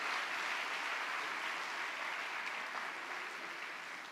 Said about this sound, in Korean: 귀한 일천영부 형제 자매들 향해서 큰 박수로 격려하도록